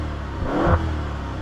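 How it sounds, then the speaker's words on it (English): A 590 HP 2019 Maserati Levante Trofeo launch edition gives a single short rev of its engine and exhaust, a loud rising and falling burst under a steady road rumble. "let's hear this engine"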